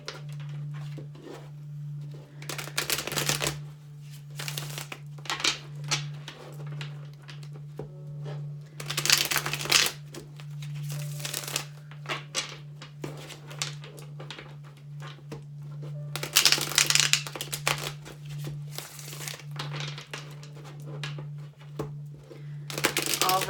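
A deck of tarot cards shuffled in repeated bursts of crisp riffling and flapping, several loud flurries separated by quieter handling, over a steady low hum.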